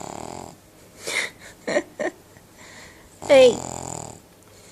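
Sleeping dog snoring, with wheezy rasping breaths between bursts of a voice trying to wake it, and one louder snort-like vocal sound near the end.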